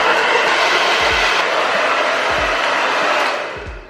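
A hair dryer blasts loudly and steadily at close range while bangs are blow-dried over a round brush, with a few soft low thumps beneath before the airflow fades at the end.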